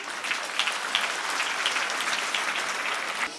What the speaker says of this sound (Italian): un applauso alla Presidente Alessandra Todde